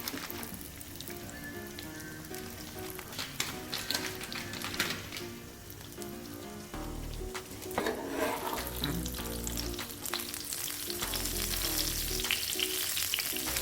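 An onion scape omelette topped with Amul cheese slices fries in a pan, giving a continuous close sizzle with crackling spatter that swells louder toward the end. No one speaks.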